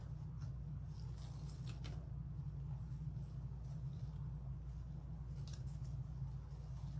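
Scissors cut deco mesh tails for a Halloween wreath, making soft, crisp snips over a steady low hum of background noise.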